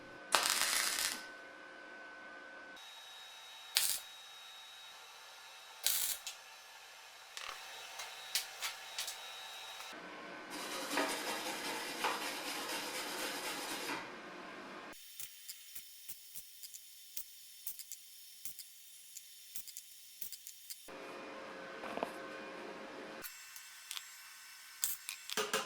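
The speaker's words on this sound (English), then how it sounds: "Okay, so here goes the first tack welds." Early MIG tack welds on the engine bay of a BMW E30 325i Touring give short crackling, buzzing bursts, some brief and some several seconds long, separated by pauses and a few sharp clicks.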